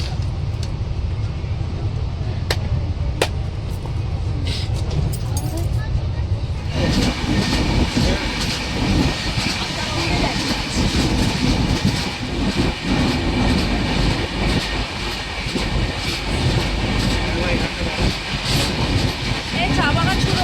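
The Pahari Express passes through a station without stopping, a loud, continuous rumble and clatter of rail cars rolling by that swells after a few seconds and holds steady to the end, with people talking nearby.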